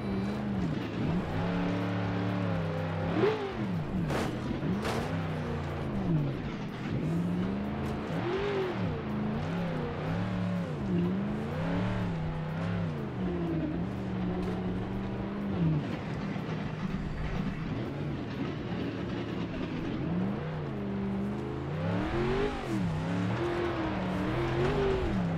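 A car drives in BeamNG Drive, its engine droning steadily and revving through rising and falling pitch sweeps as it accelerates and shifts, loud and continuous throughout with no talking.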